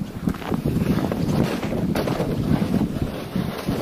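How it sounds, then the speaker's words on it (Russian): A strong side wind sweeps across a frozen lake during January ice fishing, buffeting the microphone with a continuous roaring rush and gusty thumps, with no one talking. "Ветер боковой сильный"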